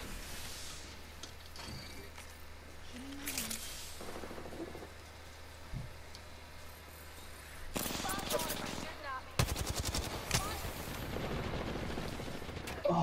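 Video game gunfire crackles in rapid automatic bursts and scattered single shots, loudest and densest near the end, with team voice chat over it.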